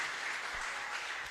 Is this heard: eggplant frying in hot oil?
no